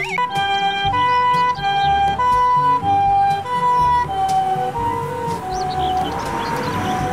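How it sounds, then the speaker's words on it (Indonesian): A toy ambulance gives off a loud electronic siren, a steady wailing two-tone pattern that repeats for the whole stretch, with a melodic tone sequence over it and no talking. "Di sini ada mobil ambulans."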